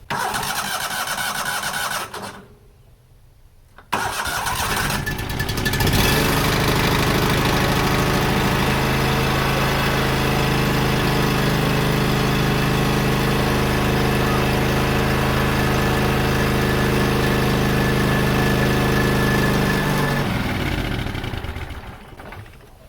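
A neglected Yazoo YTKC22 three-wheel riding mower engine, running lean and needing choke, cranks, falls quiet briefly, then catches and runs at a steady, loud drone for about fifteen seconds before dying away.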